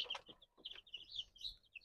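Young chickens peep in thin, high chirps, several quick calls scattered over a couple of seconds, quiet and close with a soft low rumble beneath.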